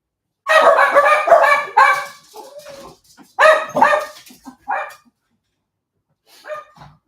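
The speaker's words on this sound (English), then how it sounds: "Sorry about that. The dogs want letting out." Several dogs bark in loud, close bursts indoors, with yips and a short whine between volleys, then a quieter bark near the end after a pause.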